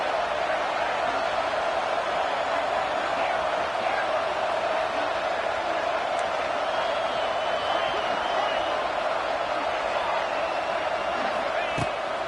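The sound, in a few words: stadium crowd cheering on third down at football game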